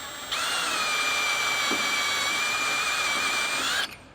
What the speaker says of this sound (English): I'm now gonna drop my drill bit in to make sure